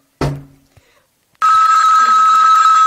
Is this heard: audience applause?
no